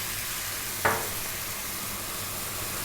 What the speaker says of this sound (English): Just give this a mix on a nice high heat